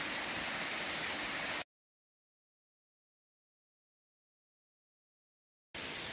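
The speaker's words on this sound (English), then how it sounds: "it's been neat walking alongside this stream. A lot of waterfalls, pools" Mountain stream with waterfalls and pools beside a steep trail, a dense continuous rush of water that cuts out to silence for several seconds before returning.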